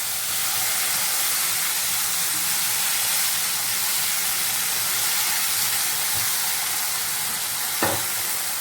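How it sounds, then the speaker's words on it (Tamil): Tamarind water for puliyogare boils in a pan with a steady, close sizzling and bubbling hiss that carries on evenly throughout, with a single faint clink near the end. "நல்லா கொதிக்கட்டும் கொஞ்சம்."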